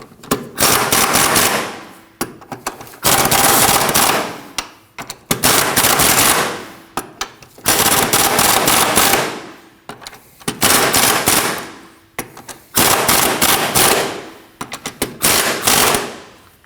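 An impact wrench snugs the control arm bolts on a Subaru Baja, firing in repeated loud rattling bursts of about a second or two, separated by short pauses.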